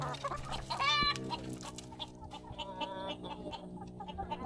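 Chickens kept at home, including fighting cocks, cluck continuously and close by, with one short rising crow-like call near the start over a steady low background hum.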